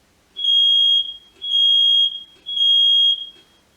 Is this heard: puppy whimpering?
no